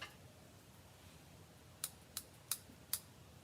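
Four sharp, crisp snips in quick succession over a quiet background hiss, like small scissors cutting close to the microphone.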